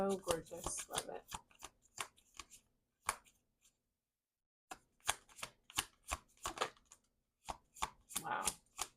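Tarot cards are shuffled close up in quick bursts of crisp riffling and slapping, with a short pause before the shuffling resumes, and a voice is faintly heard at moments.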